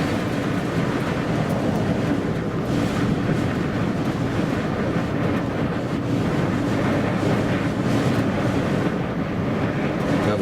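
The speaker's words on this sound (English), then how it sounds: "Now the wind is blowing pretty much out of the west-southwest" Strong wind roars continuously across an open field at Cadillac Ranch in Texas, a dense, unbroken rush of microphone buffeting that stays loud from start to finish.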